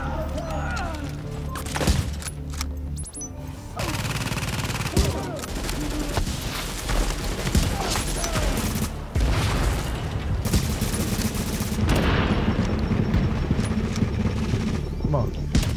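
Shotgun and other gunfire in The Division, a third-person shooter, with dense bursts of blasts and booms running almost continuously through the combat, loud and close, with a player talking over it.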